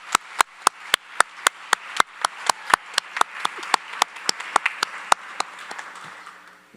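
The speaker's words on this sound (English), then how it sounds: "Can I have a round of applause for Allison?" Slow, distinct claps ring out at a college graduation ceremony for a graduate, a few people clapping in a sparse, fairly regular rhythm of sharp individual hits close by, thinning toward the end.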